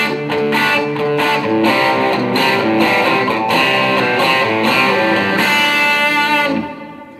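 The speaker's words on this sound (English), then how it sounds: "I can use kind of a clean type distortion, about 3 different ones rhythm-wise I'll use" Electric guitar played through a clean-type distortion effect, strummed chords in a steady rhythm with sustained, harmonically rich tones, loud and close, ringing out alone before fading at the end.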